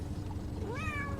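A cat gives a single rising, annoyed meow close by, over a low steady background hum.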